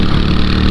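A Moto Guzzi V7 motorcycle engine runs steadily, a loud, close, continuous throbbing drone heard for under a second with no talking.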